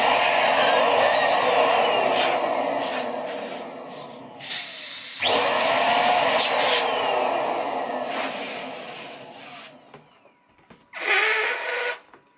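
An electric balloon pump inflates two balloons at a time, a loud close whooshing blow that runs for several seconds, stops, restarts with rising pitch, then comes back in a short final burst.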